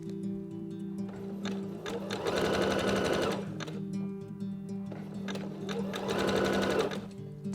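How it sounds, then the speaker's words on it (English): A sewing machine stitches down the middle of fold-over elastic onto a raw fabric edge for a bra-and-pants set, running in two steady, close bursts with a short slower stretch between them. "we're just going to sew all the way down the middle of the fold over elastic"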